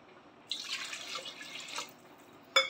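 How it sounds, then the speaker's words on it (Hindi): Water poured into a haleem mixture in a home kitchen: a steady trickling pour lasting about a second and a half, then a brief splash or clink at the end, fairly faint and with no talking. "अब हम इसमें वाटर ऐड करेंगे।"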